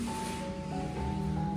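Water runs steadily at a wellness spa, making a continuous rushing wash with a faint tonal hum underneath and no talking.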